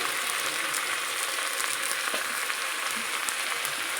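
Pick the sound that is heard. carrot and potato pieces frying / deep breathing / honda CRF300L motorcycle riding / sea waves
carrot and potato pieces frying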